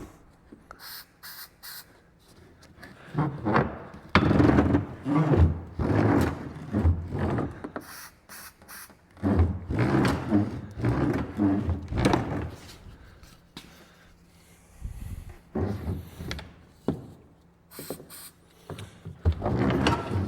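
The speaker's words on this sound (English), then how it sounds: "a nice smooth operating tailgate" Repeated creaking, scraping and clunking of a rusty metal UTV tailgate being worked open and shut, several rough bursts with short pauses between them.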